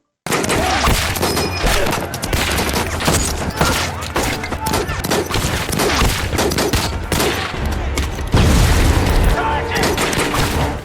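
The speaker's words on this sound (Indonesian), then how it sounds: "terjadilah kontak tembak antara Amerika dengan tentara Jerman yang berjaga" A war film gunfight between American and German soldiers erupts in loud, dense bursts of rifle and machine-gun fire with heavy booms, continuous and close, under a voice speaking over the action.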